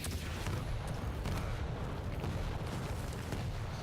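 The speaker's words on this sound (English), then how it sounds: "Rockets coming down through from NeyroN" Rockets explode in a Quake Champions one-on-one match, a dense continuous barrage of booming blasts and rumbling impacts filling the whole stretch, with no clear speech.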